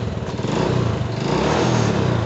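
A Honda Supra motorcycle engine running steadily, its close, loud mechanical putter holding a constant idle throughout with no voices.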